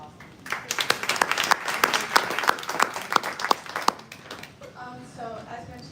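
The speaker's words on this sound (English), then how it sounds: "Give them a big round of applause." Applause at a university town hall on decarbonizing the campus, a short burst of distinct close hand claps that swells and fades within seconds, followed by a voice starting to talk.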